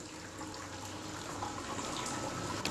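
A small pump pushes about 25 liters of treated brewing water during a homebrew lager brew day, giving a steady, even rush of flowing and trickling water with no pauses.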